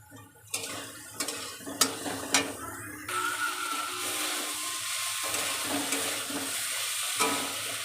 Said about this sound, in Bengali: নাড়াচাড়া দিয়ে একটু কষিয়ে নিয়েছি।